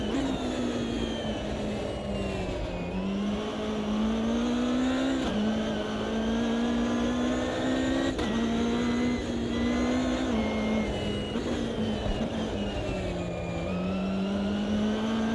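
GT3 race car engines in Automobilista 2 on the VIR circuit, a steady loud engine drone with a rising and falling pitch as the car revs, shifts and brakes through corners, continuous and up close.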